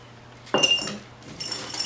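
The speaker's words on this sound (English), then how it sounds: "The next thing we're going to add is ice." Ice cubes dropped into a glass, a sudden close clatter of clinks followed by a softer rattle and settling as more cubes tumble in.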